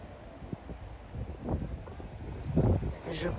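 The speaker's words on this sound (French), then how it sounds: "On est au nord de l'île et il y a du vent." Steady wind rushes and buffets the microphone outdoors on the north of Gran Canaria, with faint voices briefly audible under the blustery noise.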